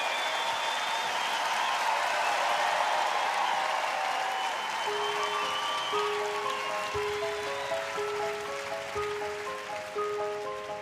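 Concert audience at the Olympia in Paris applauds as a singer is introduced: a broad wash of crowd clapping, loud and sustained, then fading as sustained musical tones enter and rise beneath it.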